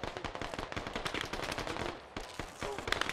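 Rapid gunfire in the military shooter Squad, with a dense, rattling stream of automatic shots cracking in quick bursts, fairly distant and moderately quiet, pausing briefly before more shots ring out.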